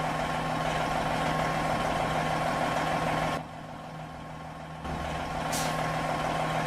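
A truck in American Truck Simulator with a steady engine drone and rattle, plus a tonal hum; it drops quieter partway through, then returns with a brief high hiss near the end.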